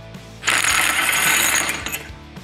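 A Milwaukee compact impact wrench runs in reverse, giving one loud, steady mechanical whir with a faint ratcheting edge that lasts under two seconds and then stops, with no voices.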